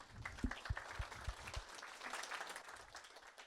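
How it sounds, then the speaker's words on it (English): Faint applause from a small audience at a tech talk, a few scattered claps at first blending into a soft, thin round of clapping heard from a distance. "Right, big round of applause, Joseph."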